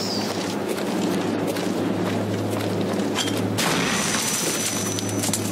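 Video game gunfire rattling off in scattered bursts over a steady low engine-like hum, dense and loud throughout with a shift in texture partway through.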